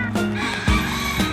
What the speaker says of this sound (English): Can you hear the rooster?